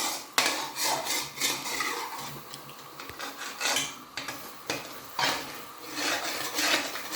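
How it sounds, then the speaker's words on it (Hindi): A spoon scrapes and presses walnut halwa against a pan as it roasts, making continuous close rasping, rubbing strokes with occasional metallic knocks. "नीचे से थोड़ा सा चम्मच के साथ ऐसे ऐसे करके दबा के थोड़ा निकालेंगे इसको"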